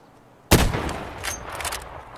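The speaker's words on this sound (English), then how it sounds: "that's a damn scav shooting SKS" A scav fires an SKS rifle in a video game: one sharp, loud shot breaks a quiet moment, then a rumbling echo and scattered noise trail off.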